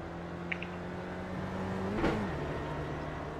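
A Spec Racer Ford engine in the iRacing video game drones steadily, then rises in pitch as it accelerates, with a brief gear change near the midpoint; moderately loud, no talk.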